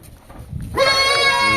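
A jumbo breeding doe goat lets out a single loud, wavering bleat up close, rising after a moment of quiet barn murmur and holding to the end.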